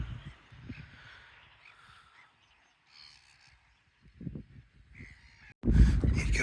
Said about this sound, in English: A lot of geese about.